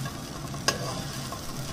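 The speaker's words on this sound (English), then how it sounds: "Give it a quick stir." Raw banana pieces are stirred with spice powder, including red chili and coriander, in a hot pan, giving a steady close sizzle with a single sharp scrape of the spoon partway through.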